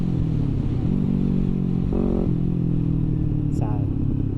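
A Kawasaki Ninja 250R motorcycle engine runs steadily close by with a constant hum, a short rise in revs partway through, and brief speech-like sounds mixed in.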